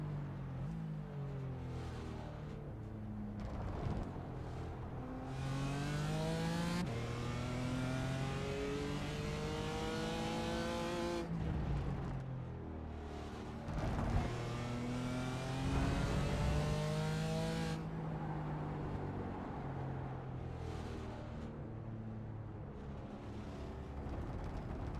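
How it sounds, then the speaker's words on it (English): On-board engine of a BMW race car in a sim racing game at the Rudskogen circuit in Norway: loud, continuous revving climbing through the gears, with repeated upshifts and brief lifts as it accelerates and slows through corners. "What a lovely sounding car, that BMW."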